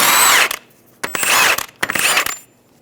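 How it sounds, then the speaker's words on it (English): A power tool drives a 30mm socket to remove the axle nut on a 2007–2011 Toyota Camry. It fires three loud, close bursts of rattling impact, each about half a second long, with short pauses between them. "Using a 30mm axle nut socket, we're going to remove the axle nut."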